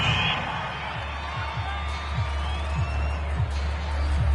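A home crowd in an American football video game on PS4 roars in a steady, dense wash of cheering, with soft low thumps recurring beneath it throughout.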